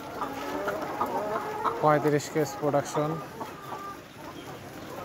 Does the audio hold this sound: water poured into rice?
no